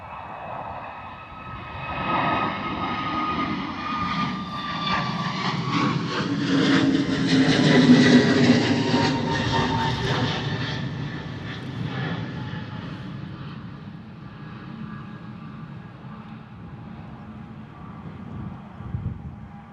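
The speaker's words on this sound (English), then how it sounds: "One of the biggest passenger jets that we get here into Bristol Airport on a consistent basis." Passenger jet engines at Bristol Airport, swelling from a distant rumble to a loud whining roar as the aircraft passes, then fading slowly away, with some wind buffeting on the microphone.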